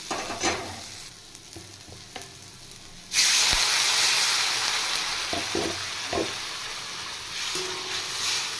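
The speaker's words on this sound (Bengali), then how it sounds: "এবার আমি পরিমাণ মতো জল দিয়ে দেব" Water is poured into a pan of spiced potatoes already fried in masala for an egg curry. Quiet stirring and scraping give way to a sudden loud burst of sizzling and hissing that keeps going, with a few utensil knocks.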